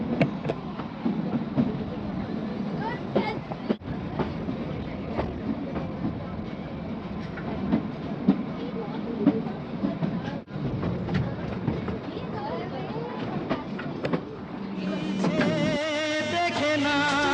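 A toy train runs on the Shimla mountain railway through the Himalayas, a steady rumbling rattle of wheels and carriages heard from on board, with music coming in near the end.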